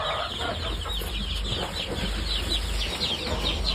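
A flock of farmyard chickens and a rooster clucks in short, overlapping bursts against a steady background hiss, moderately loud and continuous without speech.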